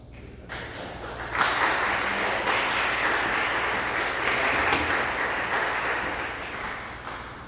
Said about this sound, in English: Let's give a thunderous round of applause to Martin Lombardi.